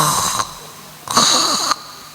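A man imitates snoring with two rough, raspy breaths, a short one and then a longer one, loud and close, with no other talk.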